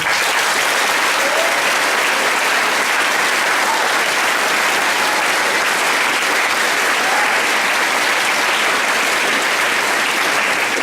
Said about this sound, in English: I'd like to give a round of applause for our students that spoke